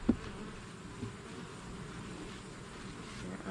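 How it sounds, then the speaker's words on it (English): A honeybee hive buzzes softly during a post-treatment check, a faint, steady drone of many bees with a couple of brief knocks near the start. "There are bees upstairs."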